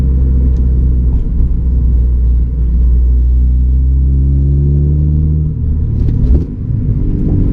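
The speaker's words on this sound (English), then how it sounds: "That's a rev match for y'all." A car engine rumbles steadily, its pitch sweeping up in a quick rev-match before settling as the gear changes down, loud and close with no talking.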